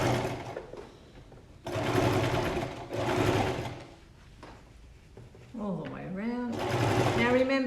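A sewing machine stitches the curved edges of a side-seam pocket bag together, running in several close, steady bursts with brief pauses between them while a voice talks over it.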